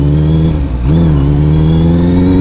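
A 2017 Honda CB650F 650 cc motorcycle is ridden with its engine droning loudly and steadily up close, with a brief dip in revs before it pulls again.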